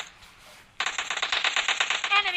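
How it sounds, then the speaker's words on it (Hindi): Rapid burst of M249 machine gun fire in the battle game PUBG Lite, loud and close, a steady stream of rounds after a brief quiet start. "M249 ही चलाता हूँ मैं।"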